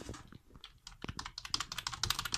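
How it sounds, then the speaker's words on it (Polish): Rapid clattering keystrokes on a computer keyboard, loud and close, with uneven bursts that speed up toward the end and no voices. "klawiatura"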